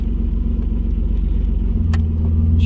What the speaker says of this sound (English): Just idling perfect at 950. I knew that was a good motor.